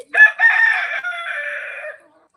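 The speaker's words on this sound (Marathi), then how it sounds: "ते कोंबडे छोटे दिसत आहेत ते वर गावठी पक्षी आहेत" A single loud crow from a native village rooster close by, a rising call drawn out over about two seconds, then silence.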